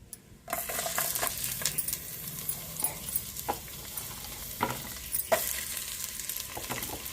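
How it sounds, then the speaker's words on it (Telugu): Whole spices fry in oil in a pan for tomato rice, a soft, continuous sizzle with scattered sharp scraping taps as they are stirred. "ఇవి బాగా ఏగాలి మసాలాలు ఎగుతున్నాయి కదండి"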